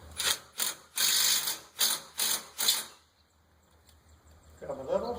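An impact driver with a star bit tightens a bolt on a wrought iron gate post in six short, loud, hammering bursts, then falls quiet before a voice begins at the end.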